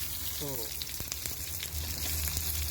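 Shrimp stir-frying with curry powder in a pan, sizzling loudly and steadily with brief stirring scrapes; a short voice sound is heard near the start.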